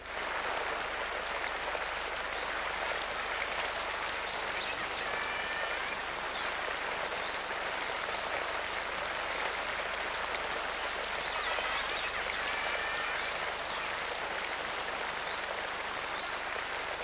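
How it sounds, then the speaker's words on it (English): Rain falls gently on a tropical river forest, a dense, even hiss of drops that holds steady for the whole stretch and carries no voices. "The rains fall gently at first, enveloping the forest in veils of mist."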